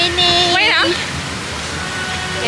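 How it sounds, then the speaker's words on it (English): Steady rain hisses as a broad wash behind the whole stretch; during the first second a person speaks close by over it, and then only the even downpour remains, fairly loud and constant. "It's raining."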